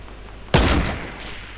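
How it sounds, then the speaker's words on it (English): A single loud gunshot from a sniper-style weapon in the video game Fortnite cracks sharply after a quiet moment, then trails off in a short decaying echo. "He moved as I shot."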